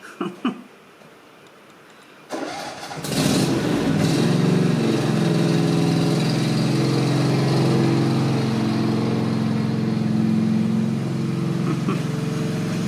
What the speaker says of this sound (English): He's putting this lawnmower in its parking spot.